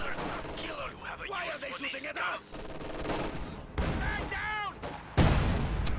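Artillery barrage in a World War II strategy video game featuring units like the Su-85 and Katyusha: repeated booming shots and rushing impacts in bursts, with a commentator talking over the battle sounds.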